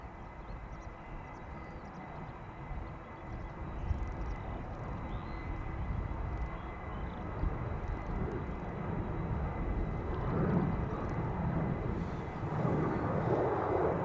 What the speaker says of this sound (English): lined up in runway center, taking off to Warsaw as we speak